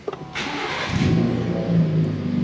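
A Ford Raptor engine cranks briefly and catches, then roars up in a loud rev before settling into a deep, rumbling idle, heard close from inside the truck.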